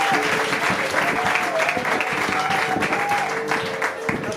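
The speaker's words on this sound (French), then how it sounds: "Can we clap for Jesus?" Congregation applauding for Jesus during an ordination service, sustained dense clapping with crowd voices and some musical tones mixed in, loud and continuous throughout.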